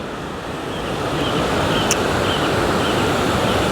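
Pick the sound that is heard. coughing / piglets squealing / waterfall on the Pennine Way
waterfall on the Pennine Way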